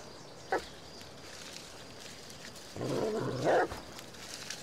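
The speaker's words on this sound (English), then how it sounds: "I can hear a dog, but where is it?" A dog barks inside the video game The Olive Grove - Die Young: one short yelp, then a longer rough run of barking a couple of seconds later, all over a steady ambient hum.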